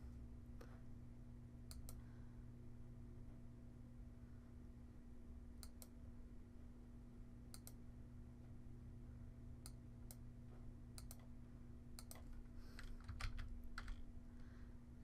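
Someone types on a computer keyboard while entering salmonella lab test results, a sparse scatter of light key clicks with pauses between them over a steady low electrical hum.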